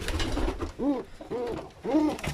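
Pigeons in a loft give three distinct cooing calls, each a rising and falling bubbling coo, close by and clear against a low background rumble.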